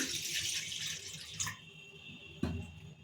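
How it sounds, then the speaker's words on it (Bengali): Water pours into a kadai (wok) for spinach curry, a short splashing gush lasting about a second and a half, followed by faint trickling and a single soft clunk near the end. "কড়াতে আমি প্রথমে জল দিয়ে নিচ্ছি অল্প মতন"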